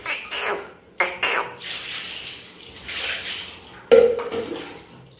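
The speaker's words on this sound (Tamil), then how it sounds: "என் பிள்ளைக்கு நானே ஊற்றுறேன் தண்ணி" Water poured over a baby at bath time, splashing in uneven bursts with sharp gushes and quieter trickling between, close by.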